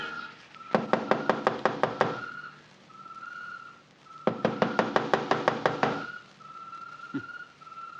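Two bursts of rapid, sharp knocks on a door, about eight raps each, come from a radio drama, with a steady tone and a faint whistle between them. The sound is close and crisp.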